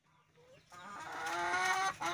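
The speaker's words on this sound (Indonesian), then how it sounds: "Itu ayam yang sebelah sana, itu Bless." Gorila breed chickens, hens and a rooster, clucking nearby, starting faint and then breaking into a louder run of harmonic clucks and calls.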